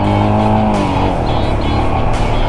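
A Royal Enfield Scram 411 motorcycle climbs onto an elevated expressway, its engine a loud, steady drone with rising pitch as it accelerates, close to the rider.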